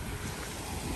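Strong wind at a beach on Oahu, Hawaii, buffeting the microphone, a loud continuous roaring rush that fills the whole moment with no voices heard.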